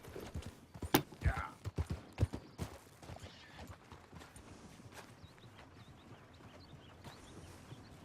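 Horse hooves clip-clop in the video game Red Dead Redemption 2, a run of loud, uneven hoof strikes at close range that slows and fades into quieter footfalls, with some talk over it.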